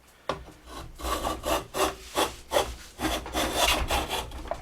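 A restored hand plane shaving a high spot off a board held in a clamp, giving a series of about eight rhythmic rasping strokes, close and fairly loud, with no talk.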